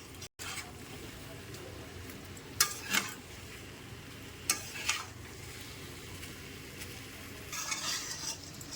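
A spatula stirs mixed vegetables and drumsticks frying in a pan, with a low sizzle underneath and several sharp scraping clinks against the metal.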